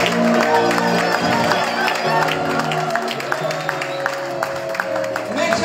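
A church congregation at Beulah Church cheers and claps, a sustained mix of applause and raised crowd voices with a speaking voice heard over it early on.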